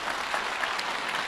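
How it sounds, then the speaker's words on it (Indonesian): In a church, a congregation claps in a short, steady wash of applause, even and fairly full, with no voices over it. "Tepuk tangan dong buat Tuhan"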